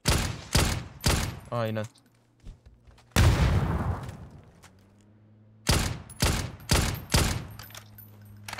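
Gunfire in the PUBG battle royale shooter: loud, close rifle shots in quick bursts, a heavy blast, then another rapid volley, with someone speaking briefly between the shots.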